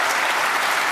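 A snooker crowd at the 2016 Northern Ireland Open bursts into loud, dense, continuous applause as Mark Allen wins his match against Michael Georgiou.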